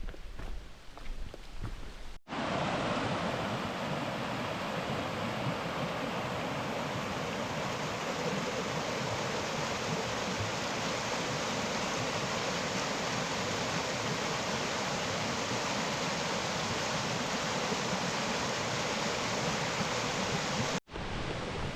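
River beside a hiking trail rushing steadily, a dense, even roar of flowing water that starts abruptly and holds loud and unbroken throughout.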